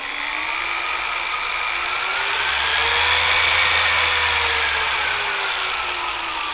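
A Maxshine M15 Pro polisher runs on speed 1, giving a close, steady motor whine with a gently shifting pitch that rises slightly and eases back, with no voices.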